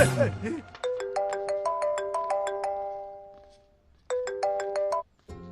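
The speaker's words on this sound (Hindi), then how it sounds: "आपको किसी का फोन आ रहा है।" A phone's electronic ringtone plays a repeating melodic chime pattern, loud and close, pausing briefly before starting again; a voice is heard just at the start.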